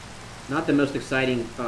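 Steady, soft rain hiss from the block game Minecraft runs throughout, with a voice talking over it for most of the stretch.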